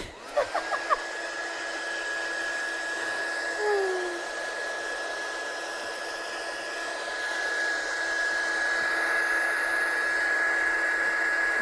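A heat gun blows hot air over a handmade craft card, starting with a few clicks and then holding a steady loud whirring whine with a constant high tone throughout.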